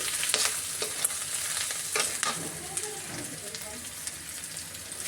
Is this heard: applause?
no